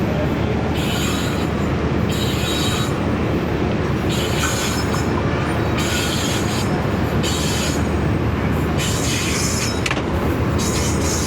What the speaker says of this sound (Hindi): यहाँ पे 13 अप अवाम एक्सप्रेस भी अब गुज़रने लगी है